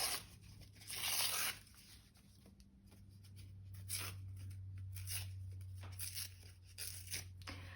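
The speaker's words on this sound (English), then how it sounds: "I'm going to tear." Paper is torn by hand for a collage, with short rough ripping bursts and soft rustling between them, quiet and close, no voices.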